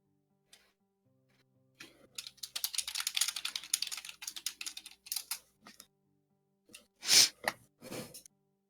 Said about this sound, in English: I'll keep typing.